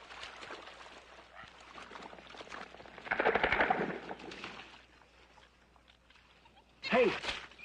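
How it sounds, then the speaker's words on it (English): Jittery guardsmen fire blanks in a 1981 swamp war film scene, a scatter of distant rapid shots with a louder flurry midway, heard under a narrator's voice, with a sharp shout near the end. "the jittery guardsmen who have just buried 3 of their dead start shooting blanks"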